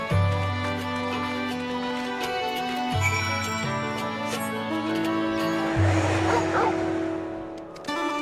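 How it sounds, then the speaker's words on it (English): A dog from Final Fantasy XIV Stormblood barks in repeated short bow-wow yips set against sustained in-game music, the barks clustered in a quick series. "Dog."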